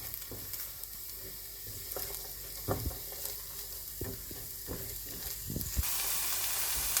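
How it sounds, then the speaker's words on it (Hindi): Crushed onions sizzle steadily in hot oil on a stove, a continuous close frying hiss with occasional stirring clicks and scrapes, no talking. "हल्का सा इसको 1-2 मिनट फ्राई करूंगी।"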